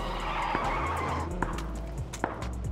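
A new car in the PUBG video game drives with a steady engine hum while tires skid and squeal in several brief bursts, and a few sharp clicks sit over the drone.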